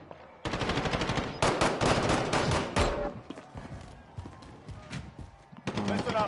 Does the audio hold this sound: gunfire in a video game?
yes